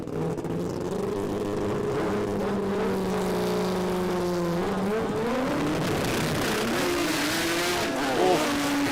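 Pro Compact drag cars, a Mazda RX7 and a Datsun 1200 coupe, run at a drag racing event with loud, sustained engine roar, the pitch rising then stepping down, and faint commentary underneath.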